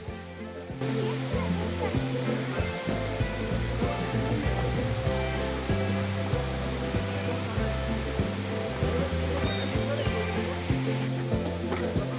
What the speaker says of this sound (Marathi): ह्या ठिकाणी धबधबा वरतून कोसळतोय